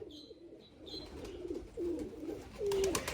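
Domestic pigeons coo in soft, low repeated calls, several birds close by, as they are let out of their coop into a new netted enclosure, with faint higher chirps and light rustling in the background.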